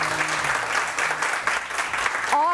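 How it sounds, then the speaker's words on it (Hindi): Studio audience applause for a guest on a Pakistani morning TV show, steady, fairly loud clapping over a faint tonal music bed, with a rising musical tone entering near the end. "उनके लिए ज़ोरदार तालियां थी"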